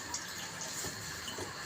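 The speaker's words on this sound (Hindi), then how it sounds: "इसमें 1/2 कप और पानी का डाल देते हैं" Water is poured into a cooking pot of chicken-feet curry, giving a soft, steady splash and trickle that stays fairly quiet throughout.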